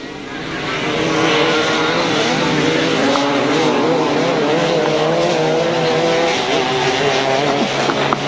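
Solo 250 grasstrack racing motorcycles roar away from the start line at a championship meeting, a loud, sustained engine howl building quickly and holding steady, close and dense.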